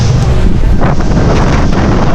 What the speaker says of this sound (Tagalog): Wala, hindi maulan. Hangin to.